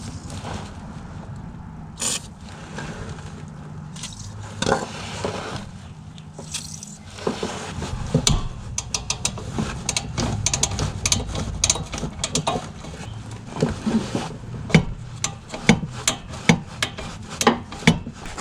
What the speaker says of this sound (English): Loosen these 3 collector bolts right here, nuts and bolts. That is going to be a 14mm wrench and a 14mm socket.